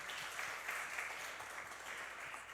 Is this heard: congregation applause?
yes